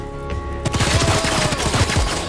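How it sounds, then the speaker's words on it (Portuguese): Rapid gunfire from the tactical game Showgunners breaks in after a quiet opening and keeps up in a fast, loud, close run of shots until the end. "Vamos encher ela de tiro no rush"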